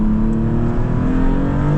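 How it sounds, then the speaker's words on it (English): A 2026 Maserati MCPura engine held at high revs, a steady loud droning whine with a slight rise in pitch, close by and without voices. "And it revs nice and high too."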